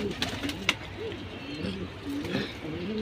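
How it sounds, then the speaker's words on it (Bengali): Several pigeons coo in low, rolling, repeated phrases that overlap across a busy pigeon collection, with sharper bird calls and faint background noise around them. "চলেন আর কিছু কবুতর দেখবো।"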